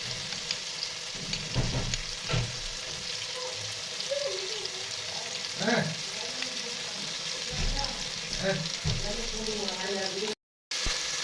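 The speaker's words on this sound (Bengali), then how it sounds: "ক্যাপসিকাম টমেটো এবং পেঁয়াজগুলো একটু হালকা করে ভেজে নিব" Capsicum, tomato and onion fry in a pan for a chicken vegetable chow mein, a steady sizzle broken by stirring scrapes and clinks, with a brief cut of silence near the end.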